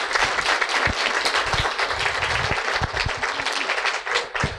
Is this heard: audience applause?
yes